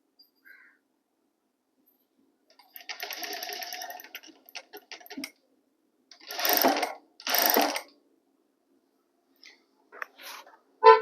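A sewing machine stitching a blouse lining runs in short separate bursts of fast mechanical whirring and clicking, one longer run followed by two brief ones and a few faint clicks, each separated by silence.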